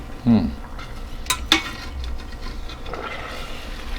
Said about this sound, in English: Oh, it's really sizzling in there.